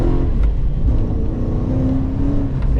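A manual Ford FG XR8 Falcon's V8 engine revs and pulls under acceleration, a loud deep throbbing growl from inside the car with a rising tone underneath.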